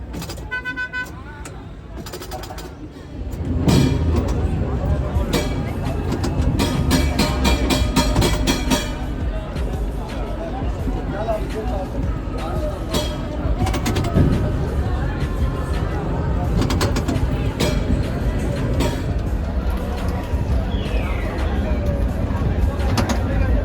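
Busy street in Istanbul's main shopping and dining avenue, where a historic tram restored and revived in 1990 runs; a steady rumble of traffic and crowd babble, with a few horn toots, fills the scene after a quieter opening.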